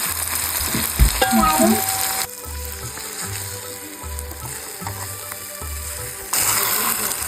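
Gongura leaves sizzle and fry in a pan with a continuous crackle, while a rhythmic low mechanical hum pulses alongside and a few scraping stirs come through early on.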